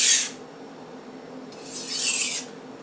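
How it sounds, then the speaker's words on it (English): A chef's knife drawn back and forth across a Japanese water stone: two separate rasping grinding strokes, close and fairly loud, with a quiet pause between them. "going back and forth one at a time,"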